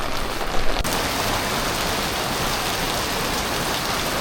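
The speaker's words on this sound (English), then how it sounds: "Oh, this rain." Steady rain pours down hard and dense, a continuous hiss of drops striking surfaces, close and loud with no voices, just a brief bump near the start.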